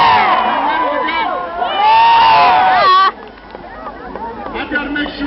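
A fired-up crowd at a rally cheers, whoops and shouts in a dense roaring swell that peaks, then cuts down abruptly to a quieter babble of scattered voices.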